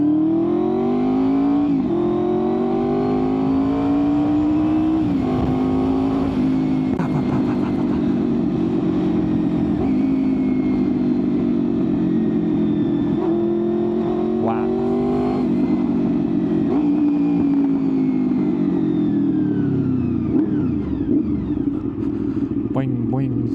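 Honda VFR800Fi motorcycle engine revving loudly up close, rising and falling in pitch over a steady running drone through a city ride, with a voice speaking briefly over it.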